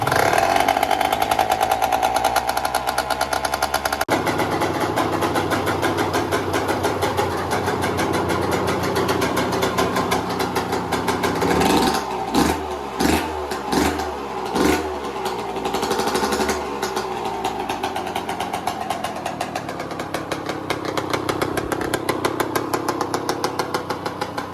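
A 2001 Yamaha YZ125 two-stroke motocross bike with a Pro Circuit fatty pipe runs close and loud, idling raggedly before a burst of sharp, choppy throttle blips midway, then settling back to a steady rasping idle.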